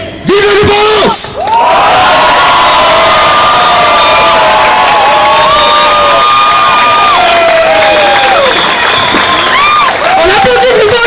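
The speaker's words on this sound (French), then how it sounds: "On applaudit plus fort que ça, s'il vous plaît" Crowd at a Journée des Patriotes rally cheering loudly, with sustained shouts, whoops and bellowing voices over applause, a brief dip near the start, then a full roar carrying on steadily to the end.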